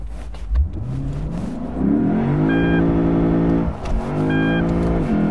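A Lexus IS F V8 engine revs hard and climbs in pitch, holding near the limiter with a steady high drone, then briefly drops and revs up again.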